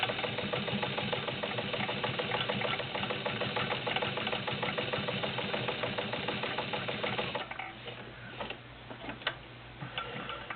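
A vintage lilac and cream Kenmore model 21 sewing machine stitching through jeans, a fast steady mechanical clatter of the needle for several seconds, then slowing and stopping with a few clicks and handling noises.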